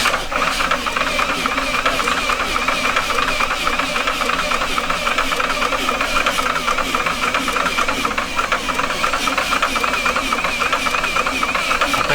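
A custom V8 built from lawn mower engines is cranked over, producing a steady, rapid mechanical chatter and whir with a constant rattling rhythm, loud and close, continuing throughout without a pause.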